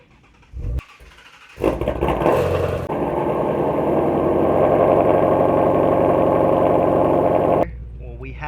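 A Shelby GT350 sports car engine, running on E85, cranks and fires up with a loud roar, then settles into a deep, steady rumbling idle heard from inside the cabin.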